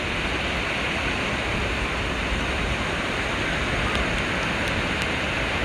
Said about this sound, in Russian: Море бушует.